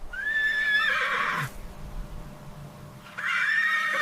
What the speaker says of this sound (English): Tiny black savanna wild horse.